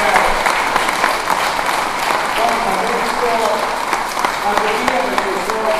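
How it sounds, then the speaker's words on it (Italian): Audience at an Italian goodness award ceremony in Rustigazzo applauds Don Antonio Mazzi, steady sustained clapping from a hall crowd with voices murmuring underneath. "io farei un applauso per Don Antonio Mazzi"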